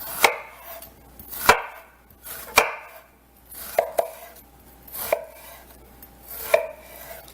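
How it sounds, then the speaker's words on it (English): A kitchen knife chops a peeled vegetable on a cutting board for a chili, with about eight sharp, evenly spaced knocks, close and clear. "just do a chop that way"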